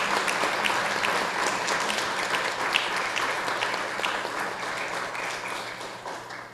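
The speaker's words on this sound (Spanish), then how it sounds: "Les expresamos nuestra gratitud y cariño con un fuerte aplauso." A congregation applauds the religious sisters at an anniversary Mass, a sustained, slightly distant wash of many hands clapping in a reverberant church, holding steady and fading a little near the end.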